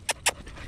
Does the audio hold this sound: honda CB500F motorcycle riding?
no